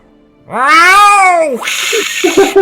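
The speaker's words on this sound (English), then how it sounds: "lets out a meow and a hiss and scuffles off behind some of the boxes stacked behind him" A saber-toothed tiger shrunk to house-cat size in a tabletop role-playing game gives a loud, drawn-out rising and falling meow, then a rough, breathy hiss with scuffling, alone and close.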